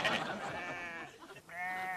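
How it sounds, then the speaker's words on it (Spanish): Two sheep bleat in a comedy sketch scene, a wavering harmonic call followed after a brief dip by a second steady bleat, heard up close with some background voice murmur. "¿Aquellas dos ovejas?"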